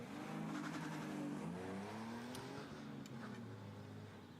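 A race car on an autoslalom course drives at speed with the engine rising and falling between shifts and corners. It sounds distant and faint, with brief sharp clicks heard over the engine.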